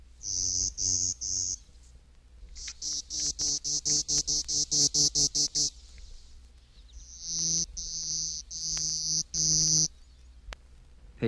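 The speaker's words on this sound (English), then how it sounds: "235, Clay-colored Sparrow." Clay-colored Sparrow song from eastern and central North America: a series of flat, insect-like buzzes, some slow and some rapidly pulsed, delivered in loud, close bursts.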